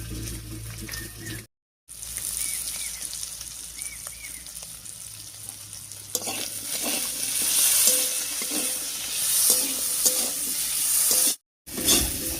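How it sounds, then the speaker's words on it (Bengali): Potatoes fry with salt and turmeric in a pan, giving a steady close sizzle broken by stirring scrapes and two brief silent gaps. "লবণ আর হলুদ দিয়ে আলুটা বেশ একটু ভাজা ভাজা মতো করে নিয়েছি"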